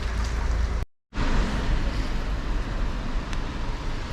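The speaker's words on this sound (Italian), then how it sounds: "Il tempo è bruttissimo, piove" Rain falling during Cyclone Thor on a cycling trip near Comacchio, a loud, steady broadband wash close by with a brief dropout, no talk over it.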